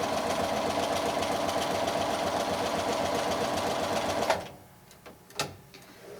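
A sewing machine runs steadily at speed, stitching a zigzag seam finish along a fabric seam allowance, then stops abruptly with a few sharp clicks and clunks as the work is handled.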